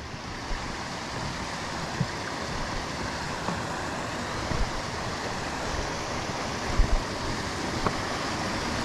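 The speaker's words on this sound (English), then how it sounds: "I hear a little waterfall." A small waterfall in a creek linking two lakes along a granite mountain trail, heard as a steady broadband rush of falling water close by, with a few faint knocks and no speech.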